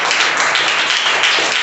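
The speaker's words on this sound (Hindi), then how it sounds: "ताली बजाओ इसके लिए।" Students in a classroom clap together, a steady, dense burst of applause close by that continues evenly without a break and with no voices over it.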